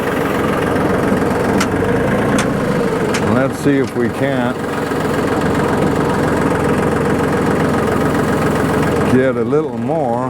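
A tractor engine idles steadily and close by, a continuous low rumble running the whole time while the loader bucket is lowered, with someone talking over it.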